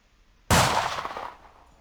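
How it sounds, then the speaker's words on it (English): A single sharp, loud gunshot cracks out of silence, followed by a long reverberant decay that fades over about a second; no voices are heard. "you hear a sound of automatic gunfire, semi-automatic gunfire."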